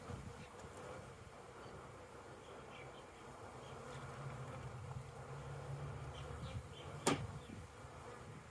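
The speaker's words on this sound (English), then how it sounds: "So these will be my backyard bees." Honeybees buzzing around a newly set up backyard hive, a faint, continuous low hum of many insects with a brief sharper buzz near the end.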